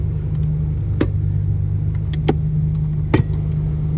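Blower fan of a 1986 Toyota Supra running at full speed, a loud steady low whooshing drone inside the cabin, with a few faint clicks and taps over it.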